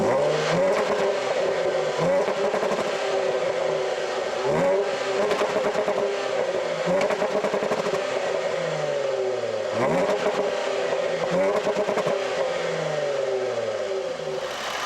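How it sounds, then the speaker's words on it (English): Supercharged 3-liter V6 of a 2017 Jaguar F-Pace S revving hard, loud and close, with repeated rising and falling sweeps as the engine climbs toward redline and drops back, steady throughout with no voices. "some of you will either find this engine to be lovely or noisy. I think it sounds very lovely."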